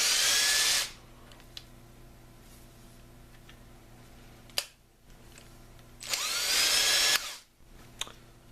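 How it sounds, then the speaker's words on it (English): A RIDGID 18-volt X4 cordless hammer drill spins up in two loud, high-pitched bursts of about a second each, separated by quiet with small clicks and handling noises. "it's a standard hammer drill"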